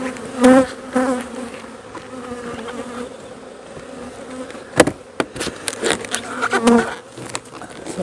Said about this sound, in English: Sometimes just a good shake on these frames will be enough to get those bees off, get them going.